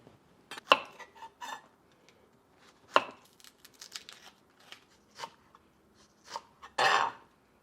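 A knife chops onions on a kitchen board in irregular, close, crisp strokes with short pauses between clusters of cuts.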